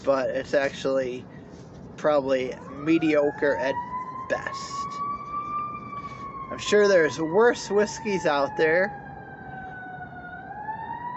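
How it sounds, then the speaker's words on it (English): An ambulance siren wails in the background, a long rising and falling tone sustained across most of the stretch, faint and distant beneath someone talking steadily in the foreground. "you can hear an ambulance in the background, which is kind of distracting"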